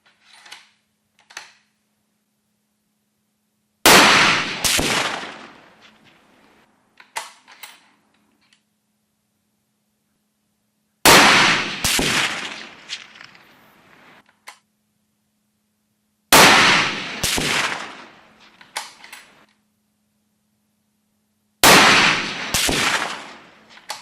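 A Remington 700 composite rifle chambered in 7x64 fires commercial ammunition outdoors, four loud, sharp reports spaced several seconds apart, each trailing into a brief echo, with faint clicks and handling noises between shots.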